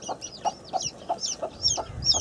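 A broody hen clucks close by, giving a steady run of about seven rhythmic, throaty clucks with soft rustling underneath.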